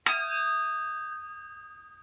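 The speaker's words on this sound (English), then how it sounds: "this is another one of my favorite instruments, this kitchen spatula" A metal kitchen spatula struck once like a percussion instrument, giving a bright, clear ding with several steady ringing overtones that sustain and slowly fade over about two seconds, heard alone.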